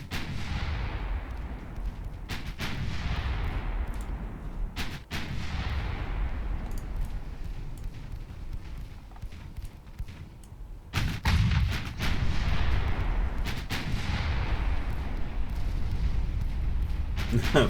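Naval gunfire in the game Ultimate Admiral Dreadnoughts, with heavy booming cannon blasts that roll and decay over a loud, continuous rumble. Several shots land close together, and a big salvo comes near the middle while a voice talks over the battle.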